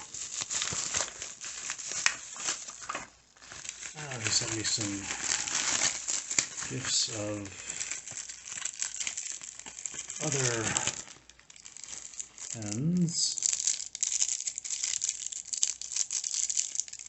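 Plastic bubble wrap crinkling and rustling in bursts while someone talks over it close by.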